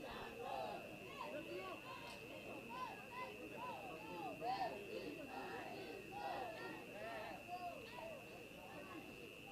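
A loud, dense crowd roars and chatters throughout a national basketball league game between the Rezlife Saints and JKL Dolphinns in an indoor arena, with shouts rising and falling and a steady electronic tone underneath.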